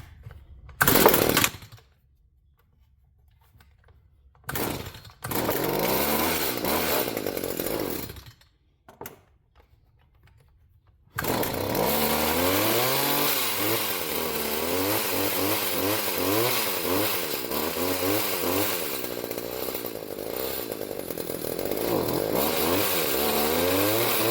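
A Stihl chainsaw, just back together after a carburetor cleaning, cranks in a couple of short bursts, then starts and runs on steadily with a wavering idle and revving engine, loud and close.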